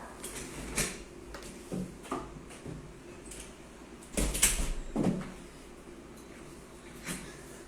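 A door being closed indoors, heard as a few scattered knocks and handling bumps followed by one louder thud and a clack near the middle, then quieter rustles.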